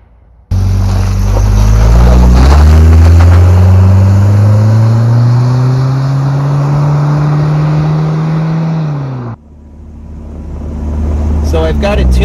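Supercharged Toyota 22RE engine on stock EFI, a loud sustained revving drone that holds high and slowly sags before cutting off abruptly, then a brief burst of other noise near the end.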